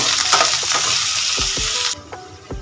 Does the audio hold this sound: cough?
no